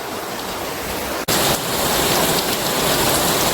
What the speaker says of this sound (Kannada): ಸೊ ನೋಡ್ಬೋದು ಮಳೆ ಯಾವ ಲೆವೆಲಿಗೆ ಬರ್ತಾ ಇದೆ ಅಂದ್ಬಿಟ್ಟು.